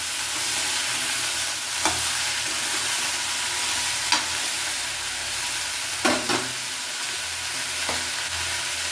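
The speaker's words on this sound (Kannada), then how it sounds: "ಈಗ ಆಲೂಗೆಡ್ಡೆನ ಹಾಕ್ಕೊಳ್ತೀನಿ. ಸ್ವಲ್ಪ ಎಣ್ಣೆಯಲ್ಲಿ ಚೆನ್ನಾಗಿ ಬಿಸಿ ಆಗಬೇಕು." Potato pieces frying in hot oil in a pan for a vegetable sambar, a steady close sizzle running throughout with a few brief stirring knocks and scrapes.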